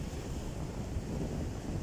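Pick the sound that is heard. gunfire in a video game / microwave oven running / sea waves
sea waves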